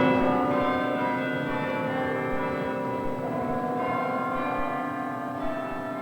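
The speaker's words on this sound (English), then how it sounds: "The British national anthem rang out across Manhattan from the church bells of St. Thomas's today" Church bells of St. Thomas's in Manhattan ring out the British national anthem in September 2001, sustained and resonant tones with a steady melodic peal and no voices.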